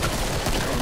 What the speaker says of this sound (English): That's a firework.